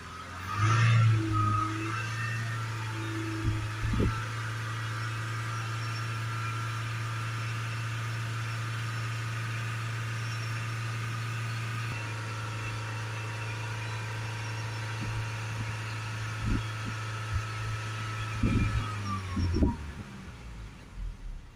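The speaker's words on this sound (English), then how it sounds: "Let's hold it up to 3000 RPM." A 2.0 Range Rover Evoque diesel with a poorly cleaned DPF, engine held at a steady 3000 RPM for about twenty seconds: a constant droning hum that drops back near the end.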